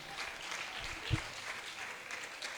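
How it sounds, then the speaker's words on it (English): Audience clapping at a talk, a steady faint spread of applause from a room of people, with a voice faintly heard. "Please clap for me."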